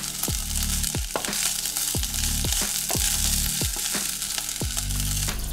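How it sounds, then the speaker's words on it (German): Basmati rice with coconut chips fries over medium heat, a steady sizzle broken by repeated scraping folds of a large spatula at a roughly regular pace, close and clear. "Bratet alles zusammen etwa 2 weitere Minuten bei mittlerer Hitze an."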